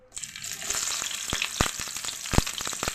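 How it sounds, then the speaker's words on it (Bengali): Chopped onion and green chilies hitting hot mustard oil in a karai, bursting into a close, steady sizzle crowded with sharp crackling pops that grow stronger toward the end. "আর কাঁচা লঙ্কা দিয়ে আমি একটু ভালো করে ভেজে নেব।"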